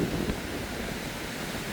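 Ocean surf and strong wind at Boracay's front beach in the Philippines, a steady rushing wash with wind buffeting the microphone, loud and continuous with no talk.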